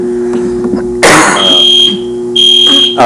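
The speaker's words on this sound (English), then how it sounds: "Nope, it's a fire alarm test." A fire alarm sounds during a test in a county meeting room, giving loud buzzing blasts with a steady high tone, in two long bursts separated by a short pause over room hum.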